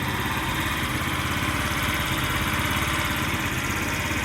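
A small Chinese scooter engine, found in a scrap yard, runs steadily on a spare gas tank, idling with an even, buzzing putter that stays close and constant the whole time.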